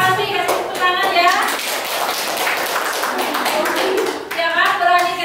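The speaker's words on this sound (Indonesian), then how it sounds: "Kalau terima kasih, kasih tepuk tangan ya." A classroom of children clapping for a student who answered at the front, a short burst of hand claps mixed with children's and a teacher's voices.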